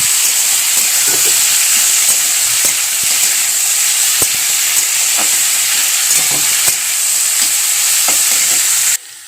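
Potatoes frying in hot oil give a continuous loud sizzle with crackling spatter and repeated spoon scrapes against the pan, close and unbroken until it cuts off abruptly at the very end; no speech.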